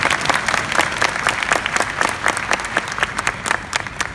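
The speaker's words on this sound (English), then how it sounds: "Can we give those leaders a round of applause?" A brisk round of applause from an audience at a business presentation, dense individual claps close and loud throughout, heard alone with no talking.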